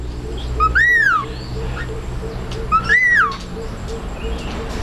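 Birds in an aviary of parrots and cockatiels give two loud, clear rising-and-falling whistled calls a couple of seconds apart, with a faint steady background hum.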